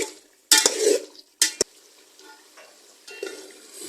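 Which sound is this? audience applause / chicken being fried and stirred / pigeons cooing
chicken being fried and stirred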